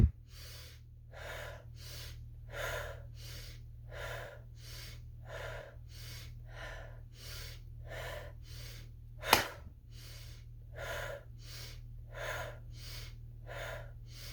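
Rhythmic breathing exercise during a meditation: about twenty quick, forceful breaths at a steady pace, close and audible over a low background hum, with one sharper burst midway.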